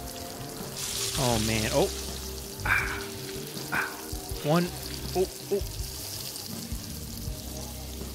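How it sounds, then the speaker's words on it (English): Eggs fry in a pan in the Arctic Eggs video game, a steady close sizzle that runs throughout while a man exclaims excitedly over it. "Just listen to that sizzle."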